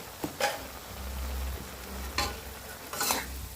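Stir-fried pork with sweet peppers and cabbage being stirred in a pan, a few distinct scraping strokes of the spatula at steady intervals over a low, continuous sizzle.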